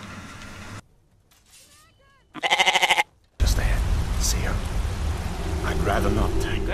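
A goat in the Skyrim video game gives a short burst of loud, rapid bleats after a quiet pause, followed by a voice talking over game noise.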